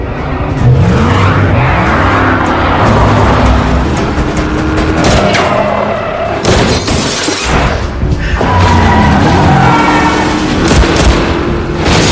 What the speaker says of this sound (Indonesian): tiba-tiba saja mobil sedan mengejarnya secara edan